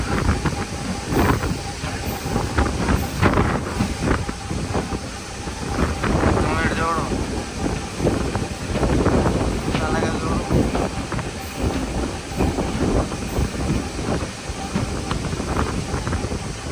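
A passenger train rumbles along on the way to Arunachalam, a loud, continuous rolling clatter with gusts of wind buffeting close by, joined by intermittent talk and rhythmic thumps throughout.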